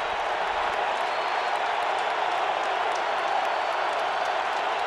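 A stadium crowd cheers and roars steadily throughout at a 2010 NFL game, Dallas Cowboys at the Indianapolis Colts, loud and dense with no single voice standing out.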